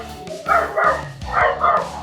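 A dog barks about four times in quick, loud, close bursts with short gaps between them.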